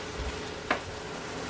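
Ground beef and onion browning in a pan give a faint, steady sizzle, broken by one brief scrape of stirring.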